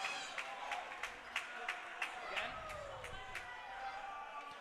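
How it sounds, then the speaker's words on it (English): Hockey crowd at a varsity game between DRS and HAFTR reacting after a goal: scattered claps and sharp bangs, likely boards or sticks, ring out over a low, distant crowd murmur, fairly faint overall. "The crowd loves it."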